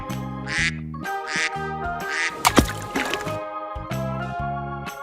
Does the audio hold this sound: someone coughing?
no